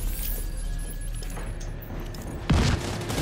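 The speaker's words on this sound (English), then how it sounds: "I got my RPG on. Prepare to fire!" An RPG fired in the shooter The Division 2: ambient game noise gives way to a sudden, loud, low blast near the end, a short heavy burst that fades back into the background.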